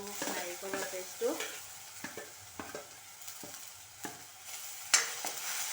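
Onions, chilli, ginger, garlic and coconut paste fry in a pan with a steady close sizzle, interrupted by repeated scraping stirs and a few sharp clinks of the utensil.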